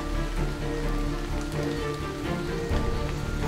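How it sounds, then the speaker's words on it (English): Steady rain falls on a surface in a toy car racing scene, a dense continuous patter of drops throughout with no voices. "It then started raining, washing all of the mud off McQueen."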